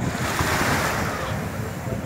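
Sea waves washing onto a beach at Porto Seguro, Bahia, a steady close roar of surf mixed with wind buffeting the microphone, with no clear breaks.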